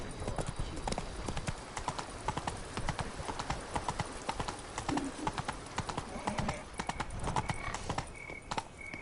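Roach, the horse in The Witcher 3, gallops with rapid, steady hoof clip-clops on the ground, loud and close and continuing without a break, with a faint snort partway through.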